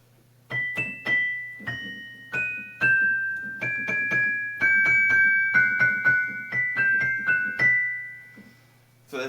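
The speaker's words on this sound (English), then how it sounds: "it's basically an amplified Celeste." A 1960s Musser Ampli-Celeste, an amplified celeste with bars inside, rings out in a sequence of bright bell-like struck notes over a faint steady low hum, each note decaying quickly, played alone.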